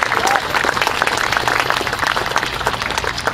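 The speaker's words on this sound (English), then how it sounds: "a big round of applause for the folks at TDS for taking care of us" Audience applause for a store's staff at a Second Amendment Saturday celebration: a dense, steady round of many hands clapping for several seconds, loud and close, with crowd murmur underneath.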